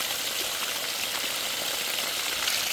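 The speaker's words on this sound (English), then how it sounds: "Now we're just flushing it all out." Water gushes steadily from a line being flushed of built-up sediment at an off-grid tropical homestead, a constant close hiss with no other sounds.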